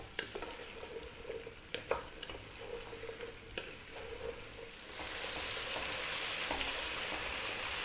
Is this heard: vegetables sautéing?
yes